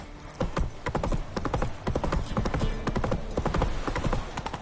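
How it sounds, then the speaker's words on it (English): A horse gallops in a video game, its hooves pounding in a fast, steady clip-clop rhythm that stays loud and close throughout, with a faint neigh blending into the hoofbeats. "Run, Roach."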